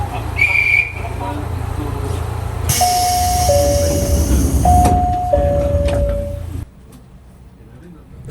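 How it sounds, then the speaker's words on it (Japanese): Train doors closing at Fukagawa station in Hokkaido, with a two-tone chime repeating twice over a steady station rumble and murmur of voices, then the noise drops away sharply. "乗降が完了したら扉が閉まります。"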